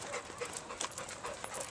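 Tracking dogs panting in fast, breathy bursts outdoors in brushy hunting country at night, close and continuous, several quick puffs overlapping through the clip without any voices.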